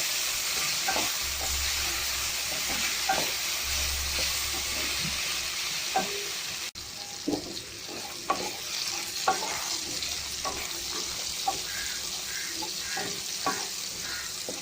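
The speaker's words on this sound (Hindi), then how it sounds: "भिंडी फ्राई करते वक्त हम आधा लेमन जूस ऐड कर लेंगे। ये भिंडी आपस में चिपकेगी और फ्राई भी अच्छे से हो जाएगी।" Okra frying in a pan with lemon juice added, with a steady sizzling hiss throughout and repeated clinks and scrapes of stirring, close and fairly loud, no talk.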